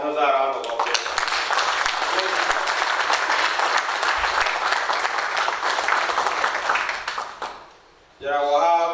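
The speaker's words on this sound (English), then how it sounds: "I think he deserved another round of applause." A lecture audience breaks into sustained applause, dense and loud for about seven seconds before fading out, with a speaker's voice heard briefly at the start and again as it dies away.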